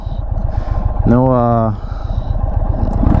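A 2022 Indian Chief Dark Horse motorcycle engine revs up briefly with a rising whine, then drops back to a rumbling idle; close and loud.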